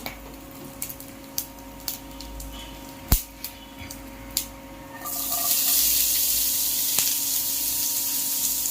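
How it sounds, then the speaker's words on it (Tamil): Ingredients for egg curry frying in a pan: a few sharp clinks and taps of a utensil at first, then a loud, steady sizzle surges up and holds close for several seconds. "இது கொஞ்சம் நல்லா வறுபடட்டும்."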